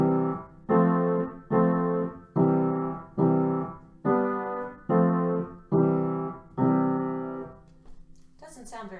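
Piano playing eight separate block chords built on do, fa and so, each struck and held for about a second in a slow even pattern, clear and close, ending with a short rustle.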